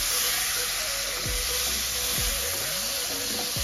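Tomatoes go into a pan of frying spices (toasted cumin and coriander) while cooking butter chicken, giving a steady, loud sizzle and hiss throughout with a few low thumps and stirring sounds, no speech.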